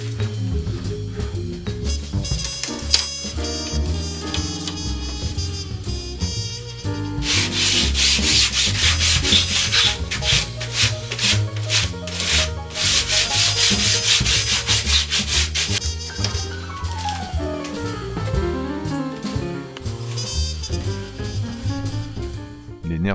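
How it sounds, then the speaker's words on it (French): Wooden wing leading edge being rounded with a sanding block, a steady back-and-forth rasping scrape with bursts of heavier strokes over a continuous background, fairly close and moderately loud. "Le mouvement alternatif de la cale à poncer assurant le ponçage proprement dit"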